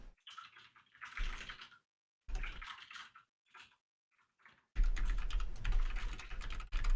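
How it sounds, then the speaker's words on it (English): Bursts of rapid clicking keystrokes on a computer keyboard, close and fairly loud, coming in uneven runs separated by short pauses, with a denser, busier stretch of typing at the end. "you're typing it out, I can hear it"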